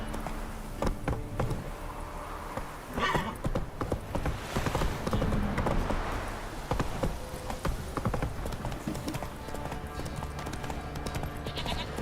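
Roach, the horse in The Witcher 3, gallops with steady rhythmic hoof clip-clops over game ambience for about twelve seconds, the hoofbeats up close and fairly loud throughout.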